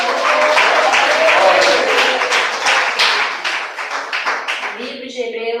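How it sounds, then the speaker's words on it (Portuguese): Church congregation clapping hands during a Portuguese-language sermon, a run of sharp, fairly rhythmic claps under a raised voice, tapering off as speaking takes over at the end. "Quem bate mais palmas?"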